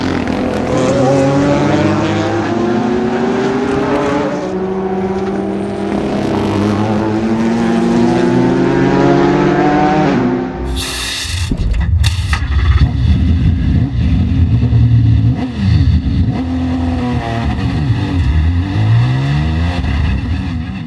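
Ford GT race car accelerating hard at the Le Mans Grand Prix, a loud sustained engine roar with rising gear-by-gear pitch sweeps, then a brief burst of noise and a rougher, lower engine drone with repeated revving swells.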